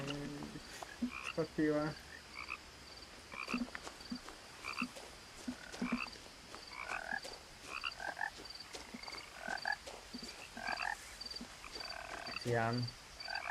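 Frogs croaking in repeated bursts at close range, rhythmic pulsed calls spread across the scene over a steady insect chirp, with a few brief spoken words in between.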